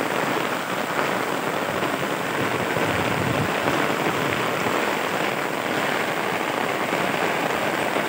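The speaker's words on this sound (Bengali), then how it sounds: "এখন বৃষ্টি আসছে" Steady rain pours down over farm fields, including an eggplant patch, a dense, unbroken hiss that stays even and close throughout with no voices.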